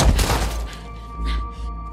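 Gunfire in The Last of Us Part II video game, a loud burst of shots followed by thuds and echoing reports.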